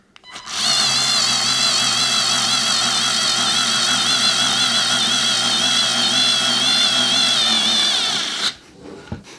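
Parkside PARS 4 A1 cordless screwdriver runs freely for about eight seconds, a loud, steady close whine of small motor and gearing with slight wavering pitch, then stops abruptly.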